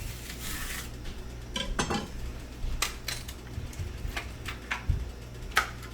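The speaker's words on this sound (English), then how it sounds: "I'm just going to cut off the top end and the bottom end, and then peel a couple outer layers off of this leek" A knife trims the top and bottom ends off a leek, giving a handful of faint, sharp clicks and taps against a quiet background.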